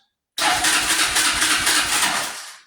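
A TaoTao ATV engine's electric starter cranks steadily over for about two seconds, loud and close, with a rapid rhythmic churn that stops without the engine catching.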